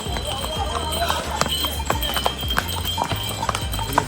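Horse hooves clip-clop steadily on the rocky mountain trail to Kedarnath, a close, regular run of sharp knocks while someone talks over them.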